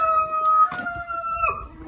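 Hens shut inside a coop cluck and call, with a sustained tonal bird call and a second rising call in a close, moderately loud burst, no talking.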